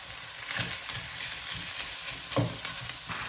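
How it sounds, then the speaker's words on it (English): Lamb mince browns in a frying pan with a steady close sizzle, broken now and then by the scrape of stirring. "So I've just added in the lamb mince. Now you just want to brown these ingredients together for around 10 minutes."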